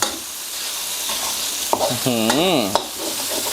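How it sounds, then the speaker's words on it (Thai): Chicken stir-fried with Thai roasted chili paste in a pan, a soft steady sizzle under scraping and stirring strokes, with a brief high squeak and a few sharp clinks of the utensil against the pan. "ใส่น้ำพริกเผาลงไปได้เลยครับ จะคใช้งช้อนโต๊ะครึ่งนะครับ แล้วก็ผัดคลุกเคล้าให้เข้ากัน"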